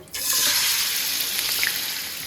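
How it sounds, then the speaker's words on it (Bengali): Spices, onion, ginger and garlic hit hot oil on a stove and burst into a loud, steady hiss of frying that holds evenly with a few small pops. "আর এদিকে চুলায় তেল দিয়ে মশলাটা আর এখানে পেঁয়াজ আদা রসুন"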